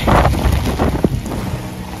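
Strong super typhoon wind roars and buffets the microphone in loud, gusting rushes, with no voices heard.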